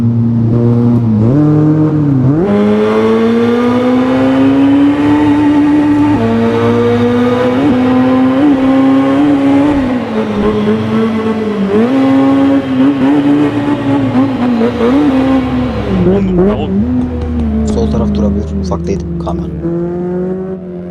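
A naturally aspirated race car engine in Assetto Corsa revs loudly and continuously, its pitch rising and falling with throttle, echoing inside a tunnel, with some talking over it.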